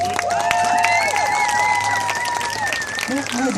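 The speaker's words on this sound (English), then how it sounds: "Give him a big round of applause." A crowd at an outdoor protest rally breaks into sustained applause and cheering, with loud whoops and a voice over the clapping throughout.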